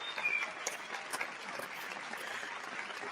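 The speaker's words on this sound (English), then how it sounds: "Let's give her a well-deserved round of" An audience gives a round of applause for a speaker, a steady wash of many hands clapping at moderate distance, fairly faint and unbroken throughout.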